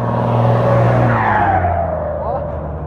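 A big truck drives along, its heavy engine drone rising and falling with tyre and road noise in a rural setting, close and loud for a few seconds, with a voice speaking over it.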